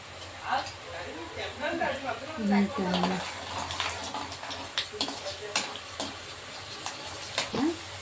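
Peanuts frying in a pan for Andhra-style coconut chutney, a close crackling sizzle with scattered spatula scrapes and clinks while a voice talks over it.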